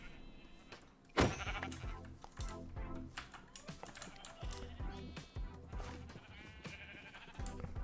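Sheep bleat in the video game Minecraft, short bleats mixed among dense clicking and tapping from play or typing, all fairly quiet.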